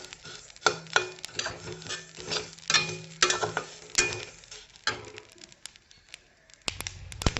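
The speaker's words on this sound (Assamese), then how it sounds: "দেখিছেনে ফাটিব ধৰিছে, এইকেইটা ফুটি আছে মানে তিলকেইটা।" Sesame seeds roast in a hot pan for Assamese til laru (Bihu sesame ladoo), giving close, irregular crackling pops and sizzles with occasional stirring scrapes, no voices.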